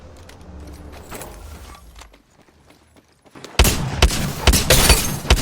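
Bursts of gunfire in the video game Apex Legends: scattered shots at first, a short lull, then a loud, dense volley of rapid shots.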